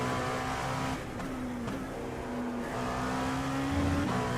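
An LMP2 prototype race car, an Oreca-style P217, roars through the Monza chicanes in the iRacing simulator, its engine note holding a steady drone with small dips and a gear change near the end.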